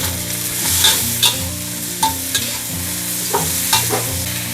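Chinese vegetables, wood ear mushrooms and baby corn stir-fried in a hot wok, a loud steady sizzle with regular clanks and scrapes of the spatula tossing the food, no voices.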